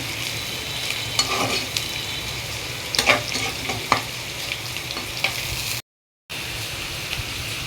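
Onions frying in a pan for beef brain masala, a steady close sizzle with scraping stir strokes throughout and a brief dropout near the end.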